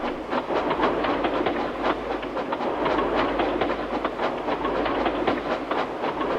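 An evening express train rolls into a station with steady rhythmic clickety-clack of wheels on the rails, loud and continuous, with no voices.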